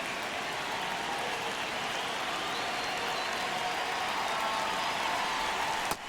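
Baseball crowd in MLB The Show 26, Red Sox at Braves in a one-run ninth inning, keeps up a steady, dense roar of cheering and applause throughout, with a slight swell near the end.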